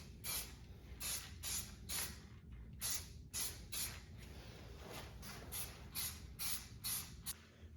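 Spray paint hisses onto Suzuki Vinson 500 ATV parts in about a dozen short, sharp bursts with brief pauses between, close by and fairly loud.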